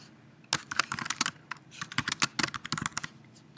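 Quick, irregular clicks of keys on a computer keyboard while a list name is typed, close and clear with brief pauses between bursts and no voices.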